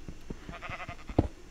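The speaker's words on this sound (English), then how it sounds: "There's so many sheep" Sheep bleat in a Minecraft-style survival game, with a few short, soft calls spread over a moment and one slightly louder bleat near the end, all fairly quiet and without talk.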